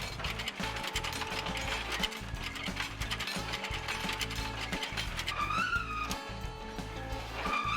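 A sencha detail rolling machine works tea leaves in a factory, giving a steady mechanical clatter with ratcheting, rhythmic knocks throughout and no voices.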